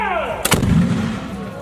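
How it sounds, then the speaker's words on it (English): A black-powder cannon at Fort Macon fires a cannonball with one sharp, loud blast, followed by a deep rumbling boom that rolls on and slowly fades, heard alone with no talk. "we will have just enough powder to fire the cannonball over the wall of"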